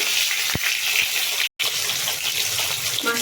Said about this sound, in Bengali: মাছটিকে ছেড়ে দিয়েছি, মাথা থেকে ছেড়ে দিয়েছি। এবার এটাকে ভালো করে ভেজে নেব।